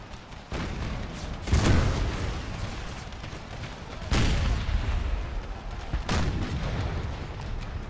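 Cannon artillery booms from a Civil War video game battle, three heavy blasts at a steady interval over a continuous roar of distant gunfire and battlefield noise, with no talk.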